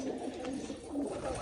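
Pigeons coo softly nearby, a few low rolling coos repeating over a quiet background.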